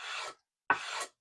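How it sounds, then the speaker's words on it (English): A sanding pad is drawn by hand across a metal part of a Technics SP10 Mk2 turntable during restoration, making two short dry rasping strokes close up with a brief silent gap between them. "when I'm doing the hand sand, I let the pad slip off the edge like that"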